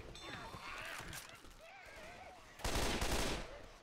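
Gunfire in the zombie shooter game Left 4 Dead 2, a burst of rapid shots in the final second, loud and dense, following a stretch of game ambience and faint voice sounds.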